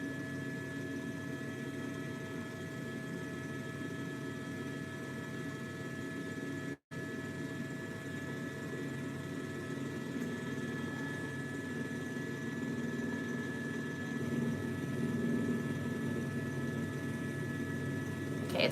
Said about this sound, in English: You guys are listening to helicopter.